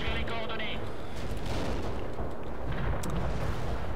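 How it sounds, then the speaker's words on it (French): An artillery barrage in the war strategy game World in Conflict: a dense, continuous roll of heavy explosions and rumbling blasts fills the whole stretch, with no pause. "le pont est pris sous un barrage d'artillerie"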